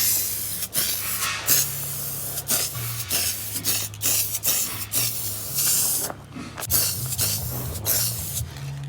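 Spray paint hisses onto lower control arms from a front suspension, laying down a gold coat in a series of short, loud bursts separated by brief pauses.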